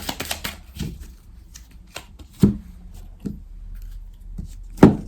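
Tarot cards shuffled by hand for a cross spread: a quick burst of riffling at first, then scattered soft taps and slaps of cards being handled, quiet and close.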